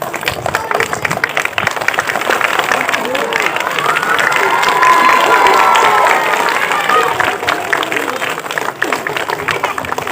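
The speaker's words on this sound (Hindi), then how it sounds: "समस्त ताली बजाबो।" An audience applauds at a community gathering with sports events, a dense wash of many hands clapping mixed with cheering, building to a louder peak midway and then easing, with voices talking over it.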